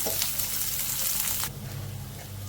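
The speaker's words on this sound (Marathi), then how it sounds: "त्यात कांदा टोमॅटो व्यवस्थित फ्राय करून घेऊया." Onion, tomato and curry leaves crackle in hot oil, a loud, close sizzle that runs strongly and then suddenly drops to a softer bubbling fry partway through, with no talking.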